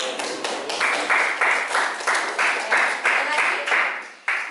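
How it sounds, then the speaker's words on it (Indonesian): A classroom group claps hands together in a rhythmic, synchronized pattern of bursts, close and fairly loud, during a chemistry lesson. "kita tepuk tangan untuk Kak Lisa."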